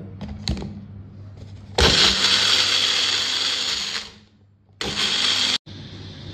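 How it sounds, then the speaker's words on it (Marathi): A mixer grinder grinding spice paste whirs loudly for a couple of seconds, winds down, then runs again in a short burst after a few faint clicks. "आता हे जे आपण वाटण केले ते आपण मिक्सरला लावून घेऊया"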